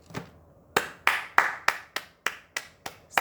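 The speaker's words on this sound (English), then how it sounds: "Spirit told me to give you a hand clap" A run of about nine sharp hand claps, close and loud, spaced at a fairly steady rhythm with one softer clap at the start, in a quiet room with no talking.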